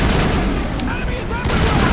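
Turrets fire in the video game Mass Effect, a loud, continuous clatter of rapid shots in the middle of a noisy firefight.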